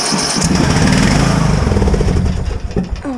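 Small lawn mower engine running on thin ice, loud and steady with rising throttle and a rough rhythmic putter, then faltering and sputtering toward the end.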